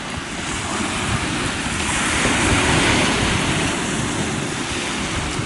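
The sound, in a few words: ocean waves lapping on the shore in the wind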